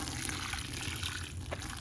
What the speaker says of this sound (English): And then I'm going to take my watering can here